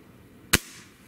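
A single shot from a Gamo Hunter Extreme PRO air rifle, one sharp close crack with a brief trailing ring, standing alone against quiet background hiss.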